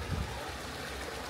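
A clear outdoor creek flows in a brief, steady rush of water, a continuous broad wash with no voices.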